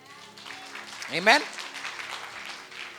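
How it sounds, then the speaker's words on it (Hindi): A church congregation claps for the speaker's mother during a prophetic sermon, a steady wash of applause running under a spoken voice. "ताली बजाओ इनके लिए।"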